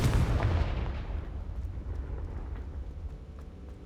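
A Confringo fire spell from the video game Hogwarts Legacy detonates with a loud, booming blast right at the start, then fades into a long rumbling decay with scattered crackles.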